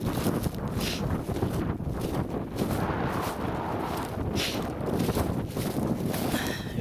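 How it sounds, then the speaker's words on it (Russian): A cold wind blows at Simakovsky pond, buffeting the microphone in steady, rough gusts that swell and ease throughout, with no talking. "Ветер, конечно, холодный такой."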